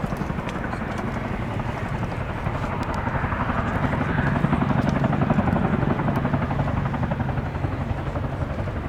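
A Royal Air Force Boeing Chinook HC6 twin-rotor helicopter makes a display flypast at an airshow, its steady rotor thump and turbine roar filling the air and swelling slightly louder near the middle before holding steady, with no talk.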